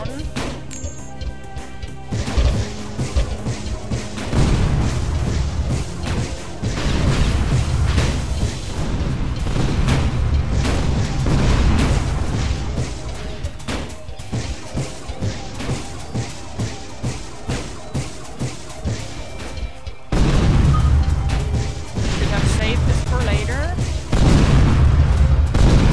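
Missile explosions in the video game Tower of Guns, a dense barrage of loud booming blasts and crashes layered with gunfire and music, continuous and heavy throughout.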